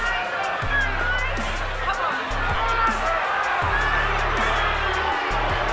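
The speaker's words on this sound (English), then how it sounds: "So the crowd now jeering Smith," A boxing arena crowd jeers James Smith during his fight with Mike Tyson, a loud continuous roar of booing and hubbub with low rumbling swells, while a commentator talks over it.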